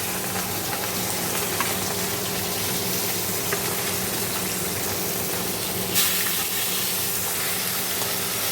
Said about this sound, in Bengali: তো মাছগুলো ভালো করে ভেজে নিই।